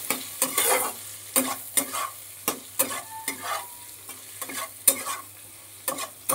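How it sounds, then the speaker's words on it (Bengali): Okra dusted with turmeric is stirred in a pan, a spatula scraping in steady, repeated strokes roughly every half second over a faint, continuous sizzle, close and fairly loud with no voices. "এইবার আরেকটুখানি নেড়ে নেব ঢ্যাঁড়সটাকে।"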